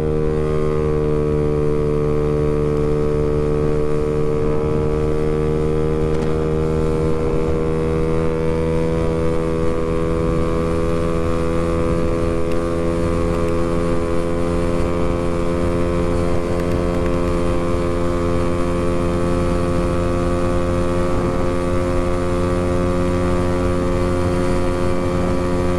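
A Honda Beat 115cc scooter with a racing exhaust holds a loud, steady, buzzing engine drone close by for the whole stretch, its pitch shifting only slightly, with no talking.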